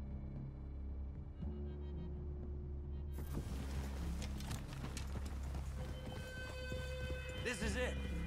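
Horses trotting in the video game Red Dead Redemption 2, steady rhythmic hoof clip-clops under a low engine-like hum, while characters talk over the sounds.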